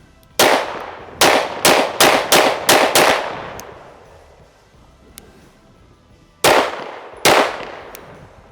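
Staccato P 2011 pistol firing about nine sharp, loud shots, a quick string of six followed by a pause and two more, each crack with a ringing decay and no talk.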